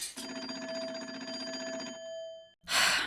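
A coin telephone on a porch in the Nancy Drew mystery game rings with a sustained electric bell for about two seconds, then a short pause before a louder burst of noise.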